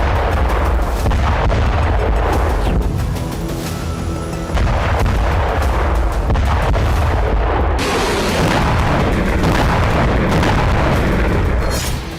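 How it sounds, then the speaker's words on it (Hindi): Heavy, rumbling blasts roll one after another over a dense, loud low-end roar, with no talking, like repeated distant explosions from drone and missile strikes. "रूस की धरती पर एक के बाद एक कई धमाके हुए।"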